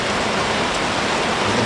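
Rain falls at a Jatiluhur fishing spot while fishing for lalawak, a dense and steady close hiss that continues unbroken throughout, with no voices.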